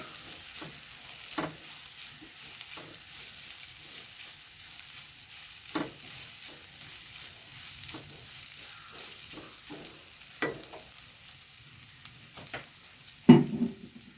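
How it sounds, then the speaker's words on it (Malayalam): Cooked chicken, boiled with spice powder and salt, tipped into a frying pan and stirred, giving a soft low sizzle with sparse scraping clicks of the spoon and a sharper clatter near the end. "അത് ഇതിലേക്ക് ഇട്ട് കൊടുക്കുന്നുണ്ട്. അതുകൂടെ ഒന്ന് ഇട്ടിട്ട് ഇളക്കട്ടെ."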